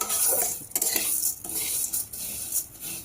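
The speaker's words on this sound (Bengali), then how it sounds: "এবার ঝিনুকটা ভেজে নেব" Shellfish frying in a pan with ghee, a close hissing sizzle with repeated metal scraping and stirring strokes of a utensil against the pan, broken by brief gaps and with no speech.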